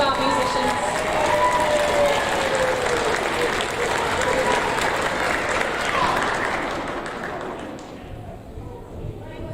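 A school audience applauds students at a sixth grade awards ceremony, a full, lively burst of clapping with some thumps that gradually thins and fades toward the end, with voices faintly underneath.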